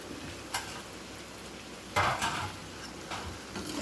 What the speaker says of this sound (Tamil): வாழைக்காவை எடுத்து போடுங்க, போட்டு நல்லா வதக்கி விடுங்க